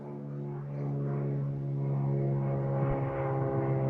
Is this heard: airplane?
yes